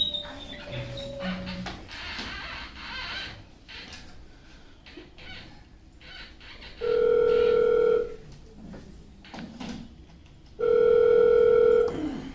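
A telephone in a stage play gives two long, loud ringback tones in a steady hum as a call goes through, each about a second long and separated by a pause, after quieter faint background sounds.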